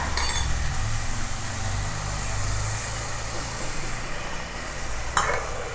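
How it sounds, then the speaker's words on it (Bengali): Water goes into a hot pan of oil for a Bengali tel katla fish curry, setting off a steady close sizzle and hiss over a gas flame, with a brief clatter near the end. "এবারে এই জলটা আমরা এতে দিয়ে দেবো।"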